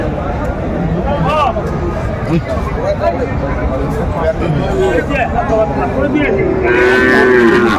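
At a crowded cattle market in Faridpur, Sahiwal cattle give several close, drawn-out moos, with one long call near the end, over steady chatter and haggling voices.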